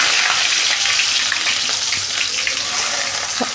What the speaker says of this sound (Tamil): வதக்கிட்டு பார்த்திங்கன்னா வெங்காயம் போடணும்.